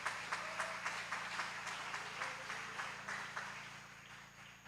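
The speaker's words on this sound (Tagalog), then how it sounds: "Yan lamang po ba ang palakpak natin sa dakilang Diyos natin?" Faint, scattered clapping from a church congregation during a sermon, coming in an uneven rhythm over a low hum.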